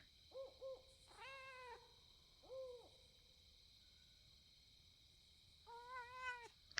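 A cat meows in the medieval video game Pentiment: a couple of short mews, two longer drawn-out meows, then a final rising meow after a pause. All are close, soft and quiet over a faint steady hum.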